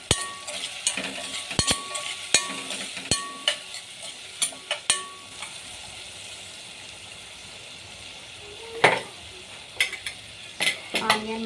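Onions frying in a pan for a Nellore-style mango fish curry, turmeric and a little salt added, with a steady sizzle and repeated sharp scrapes and clinks of a spoon stirring against the metal pan.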